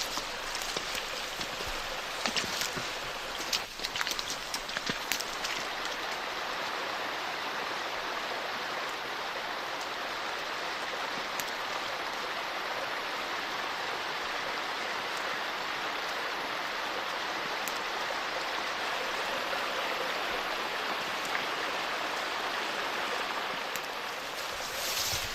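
A flowing stream in the Meža river area in Slovenia rushes steadily with a broad, even wash of water noise, close and constant throughout, with a few brief clicks early on and no talking.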